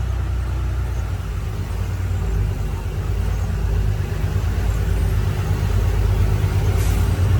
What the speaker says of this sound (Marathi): आता गाडी धरधरा लागल्या बघा